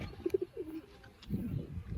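A female pigeon, a green-toned bird, gives a short burst of soft, close cooing, a few quick throaty pulses followed by a drawn-out note, then a low rumbling coo.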